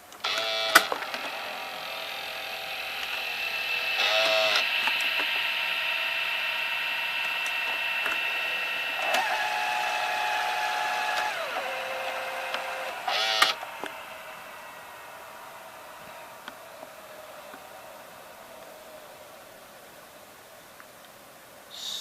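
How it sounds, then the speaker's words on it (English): Mechanical whirring and grinding from the head drum of a Sanyo VHR-2900 VCR, a steady close-up mechanism hum with a few sharp clicks and clunks, easing off to a quieter whine near the end. "see if I can make the head drum noise again."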